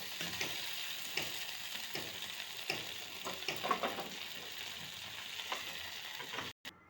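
Dried red chillies, broken by hand, fry in a pan for a Bengali pui mitulir chorchori while being stirred, giving a steady close sizzle broken by repeated scraping strokes. The sound stops abruptly near the end.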